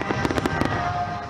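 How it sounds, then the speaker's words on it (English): Fireworks at a Moscow light festival crackle and pop in a quick cluster of sharp bursts over a dense, roaring crowd-like background, then settle into a steady wash of noise. "Men and women cheered as they filmed the remarkable fireworks on mobile phones."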